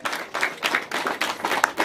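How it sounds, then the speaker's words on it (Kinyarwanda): A wedding audience claps in a quick, even rhythm, a burst of many hands beating together close by. "nimumumpera amashyi"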